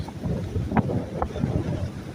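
Wind buffets the microphone with a steady rumble while water sloshes nearby, as if from a boat out on the open sea off Yas Island, Abu Dhabi.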